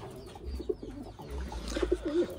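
Taiwan pigeons give soft, low coos close by, a few short repeated calls over faint background noise.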